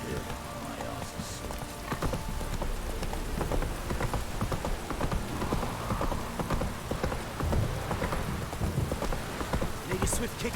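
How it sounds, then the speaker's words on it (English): Heavy in-game rain downpour hisses steadily as a dense, continuous wash of drops, with busy clattering ticks throughout and occasional brighter splashes, staying loud and even across the whole stretch. "This downpour's a bastard, it is."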